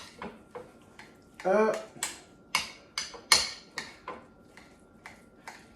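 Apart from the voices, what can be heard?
stirring mayo into egg salad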